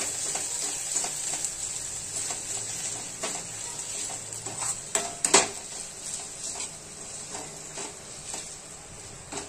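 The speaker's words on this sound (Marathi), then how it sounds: "एक चमचा अद्रक लसूण पेस्ट टाकत आहे" Ginger garlic paste frying in a hot pan for a prawn rice dish, a continuous crackling sizzle with clicks of stirring and a brief louder scrape midway, close and moderately loud.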